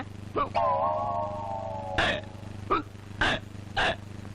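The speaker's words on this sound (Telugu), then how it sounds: "ఎవరికి ఎక్కిళ్ళు?" Sharp, abrupt hiccups from a man in a comedy scene, several short separate bursts spaced unevenly over a few seconds, heard up close with no talking.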